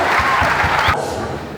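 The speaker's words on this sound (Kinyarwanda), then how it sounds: "Dukomere Imana amashyi menshi cyane." A church congregation claps loudly and briskly together in dense, sustained applause that fades into softer, thinning claps before ending.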